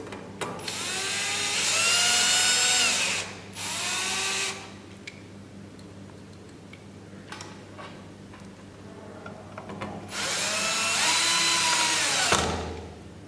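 A power screwdriver drives screws into a Sony SPF5000ES board in short bursts of whirring, one pair early and another near the end, with soft clicks and handling noise between them.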